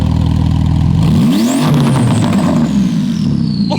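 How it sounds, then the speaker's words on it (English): A Porsche GT2 RS engine revs hard and loud from inside the cabin, its pitch rising sharply then settling into a sustained roar, with no talk over it. "somehow we've ended up in the passenger seat of this GT2 RS. The sound is ridiculous."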